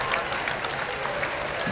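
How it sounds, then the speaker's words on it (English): A crowd at a 2013 belly flop contest gives a contestant a dense, continuous round of applause, loud and close throughout. "Come on out so everyone can give you a big round of applause"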